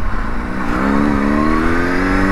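A Honda CBR600RR sport motorcycle's engine revs loud and close, its tone climbing steadily over a couple of seconds with no one talking.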